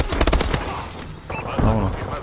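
Bursts of rapid gunfire in Call of Duty: Advanced Warfare crackle at the start, then a voice speaks and another burst of shots follows beneath it.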